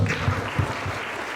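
An audience at a university conference on AI in higher education applauds the faculty dean, a steady, moderately loud round of clapping over a low rumble.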